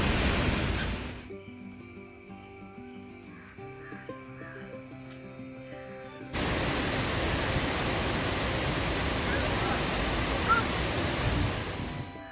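A Kerala waterfall swollen after heavy rain roars as a steady broadband rush that swells and takes over about halfway through, after an opening with crow caws and tonal sounds over quieter water noise.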